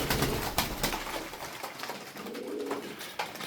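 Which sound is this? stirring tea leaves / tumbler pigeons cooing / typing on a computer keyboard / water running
tumbler pigeons cooing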